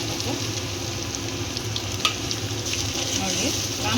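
A steady hiss of tempering sizzling in hot oil in a pan while gobi manchurian is cooked, with a slight rise near the end and no talk.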